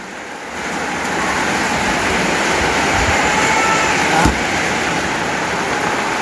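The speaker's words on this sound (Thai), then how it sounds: "น้ำไหลมาแต่พุ่นบ่เบิ้ง" Floodwater rushes past the front of a house after heavy morning rain, making a loud, steady, continuous roar with no pauses or voices.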